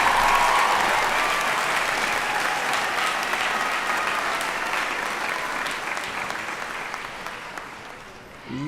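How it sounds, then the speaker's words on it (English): At a Morehouse School of Medicine spring commencement, a large audience breaks into loud, sustained hand clapping that starts strong and slowly thins out over about eight seconds. "Give God a hand clap for this wonderful day."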